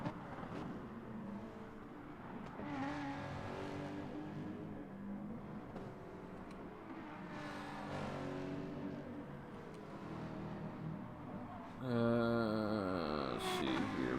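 Race cars, a Supra among them, lap the Alsace Village circuit in a racing video game, their engines droning and revving in rising and falling tones, swelling louder near the end.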